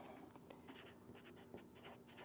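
Pen scratching out a math equation on paper, with quick soft strokes and taps in an irregular rhythm, close and quiet, with no talking.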